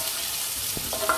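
Garlic and ginger frying in hot oil with cumin and whole spices like cinnamon, cardamom and cloves, a steady close sizzle with brief stirring scrapes.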